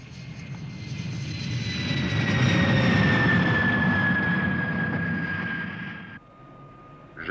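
A fixed-wing airplane making a low pass over a runway, its engine roaring loud and steady as it sweeps past close overhead, then cutting off abruptly near the end.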